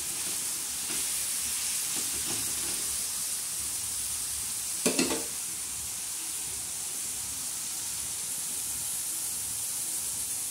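Onion fries on a tawa with a soft, continuous sizzle, broken by a brief louder crackle of stirring midway.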